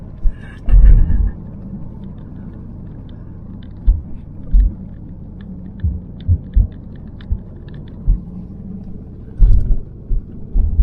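Car driving a misty mountain road on Madeira, heard from inside as a steady low engine hum and rumble, broken by irregular soft thumps and bumps from the road surface.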